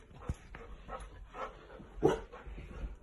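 A puppy gives a few short, high yips and barks, close by, with soft panting and whimpering between them.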